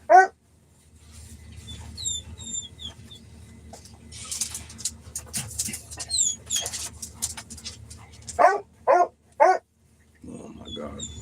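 Dogs barking at home, with a loud sharp bark at the start and a quick cluster of three barks near the end, while people talk over a low background hum.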